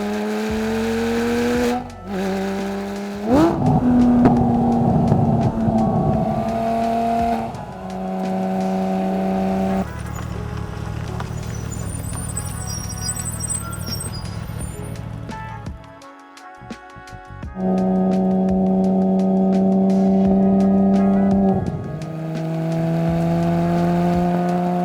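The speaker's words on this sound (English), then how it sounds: "I'll go ahead and play the sequence with just exhaust audio only." A Porsche GT3 engine revs hard through its exhaust, rising and falling in sustained pitch sweeps with gear changes and brief drops, loud and close, with no voices.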